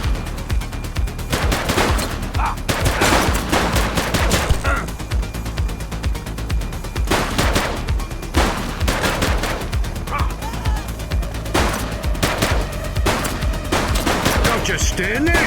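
Rapid bursts of automatic and single-shot gunfire crack through a police shootout in the video game The Precinct, loud and continuous with overlapping volleys and a few sharp impacts, while voices shout intermittently.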